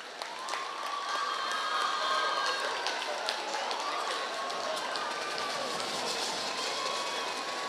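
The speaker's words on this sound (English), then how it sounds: "Kindly give her a round of applause," Spectators at a college's annual sports meet applaud student Raksha, a steady wash of clapping and crowd noise that holds for several seconds with voices mixed in.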